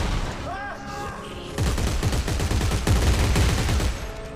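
Dense, loud sustained gunfire in the sci-fi horror game Dead Space 3, a brief voice-like tone at the start giving way to a continuous rapid barrage of shots and impacts.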